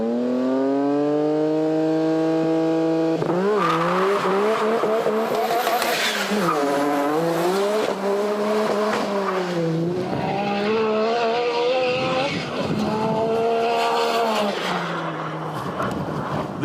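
High-performance car doing a run on a drag strip, with the engine screaming through rising revs and repeated gear changes, loud and close, the pitch climbing and dropping with each shift across a long, sustained pull.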